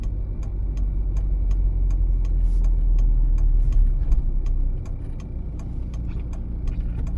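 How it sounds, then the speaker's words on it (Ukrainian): Turn signal of a car on a Dnipro driving-test route, with steady, evenly spaced clicks running all the way through over a low, constant engine and road rumble inside the cabin. "Завчасно вмикаємо правий покажчик повороту"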